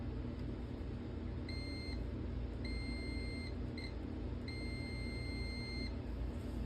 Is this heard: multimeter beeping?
yes